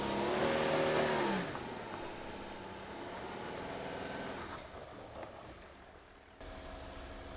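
A Toyota Land Cruiser LC300 in low range rock crawling with its terrain system set to rock, the engine revving in a rising and falling strain, then easing off as power drops away, fairly faint.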